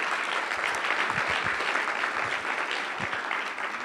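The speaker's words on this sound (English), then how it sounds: "Give him a round of applause." Audience applause welcoming a speaker to the stage at a tech center fall summit, dense continuous clapping from a crowd at an even level throughout.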